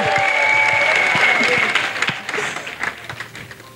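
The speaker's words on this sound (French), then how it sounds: "Clap offering." Church congregation clapping as an offering during a national couples' retreat service, dense loud applause that swells then thins out, with voices and a sustained tone mixed in.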